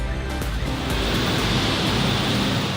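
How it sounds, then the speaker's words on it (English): Hard rain pours outside in Manila as a steady, dense roar of broadband hiss, continuous and even throughout with no voices. "I'll give you a view of this hard rain out here."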